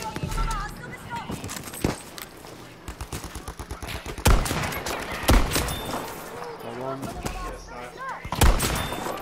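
Sharp, separate rifle cracks from a Type 99 Arisaka in a Pacific battle map of a shooter game, mixed with other gunfire nearby, while several players talk over the shots.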